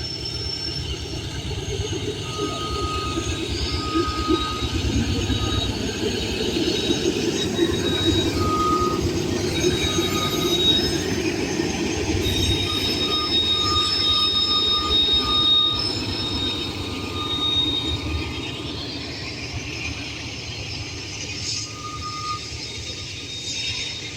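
A freight train led by Dash 9 and C6M locomotives rolls steadily past in Ohio, with a continuous loud rumble of wheels and cars and thin, high wheel squeals running through it.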